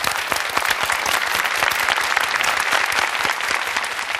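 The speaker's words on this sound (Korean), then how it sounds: "박수 한번 주세요" An audience at a Korean talk concert breaks into dense, steady applause, many hands clapping at once, loud and continuous for a few seconds.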